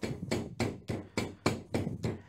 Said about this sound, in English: you do need to apply quite a bit of pressure with the hammer